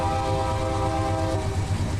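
A long freight train with lead engines and DPU locomotives mid-train and at the rear rumbles past in Run 8 Train Simulator on the Fresno to Bakersfield route, a loud steady engine drone with sustained horn tones and a rhythmic low clatter.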